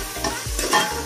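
Food being stirred and sautéed in a pan before pressure cooking, with quick scraping strokes over a steady sizzle, close up and without talk.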